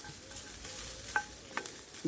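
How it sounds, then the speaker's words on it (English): Pigeon meat sizzles with onions in a frying pan close by, with a continuous crackling hiss and a few stirring scrapes. "So we let that sizzle"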